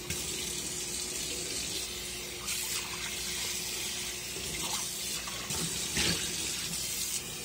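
Tap water runs into a kitchen sink, rinsing a dirty pan scrubbed with a sponge: a steady, soft hiss with brief splashy bursts, faint and close, with no talking.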